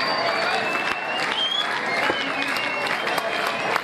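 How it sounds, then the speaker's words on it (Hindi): Steady, sustained applause from a crowd honouring Indian soldiers, dense clapping that stays even throughout, with voices faintly audible in the background. "जोरदार तालियां बजाते रहिए"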